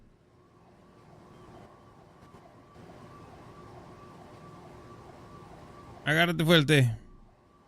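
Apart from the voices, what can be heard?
emergency vehicle sirens in a roleplay video game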